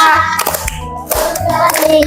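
A class of fourth-grade pupils claps hands in rhythm along to a sung classroom song, the steady claps mixed under the singing voices close by.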